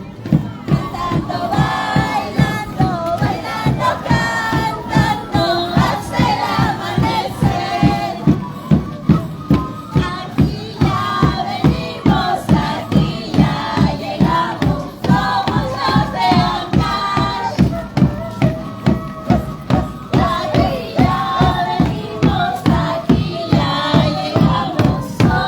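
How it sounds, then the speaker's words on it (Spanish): A carnival comparsa group chants loudly in unison at the Andahuaylas carnival street parade, a rhythmic, pulsing crowd chant with steady beats running throughout, close and full. "Ahí vamos a escuchar un poquito su cántico"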